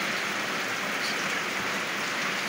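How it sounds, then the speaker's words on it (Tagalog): Heavy rain pours down steadily outdoors, a dense, unbroken hiss of drops that stays loud and even throughout, with no voices. "Malakas po yung ulan"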